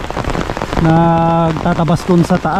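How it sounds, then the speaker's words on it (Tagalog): Heavy rain pours steadily on a rural Philippine hillside property, a loud continuous hiss under nearby voices, with someone speaking over it throughout. "Grabe oh, lakas ng ulan."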